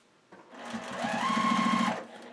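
A sewing machine stitches fabric for a sunglasses case in a short, quiet burst, its motor whirring up to a steady rapid hum for about a second before winding down.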